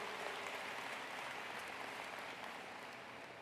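Sustained applause from a commencement ceremony audience thanking family and friends, a steady wash of clapping that stays even and moderately distant throughout, with no voices over it.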